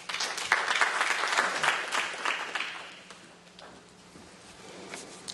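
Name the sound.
audience applause welcoming speaker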